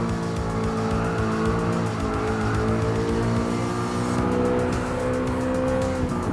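An Audi R8 race car in Gran Turismo Sport howls through a custom race, its engine holding a loud, continuous rising and falling tone with a gear change partway through and faint tire noise.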